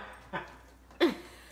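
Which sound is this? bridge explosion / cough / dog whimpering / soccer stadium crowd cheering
dog whimpering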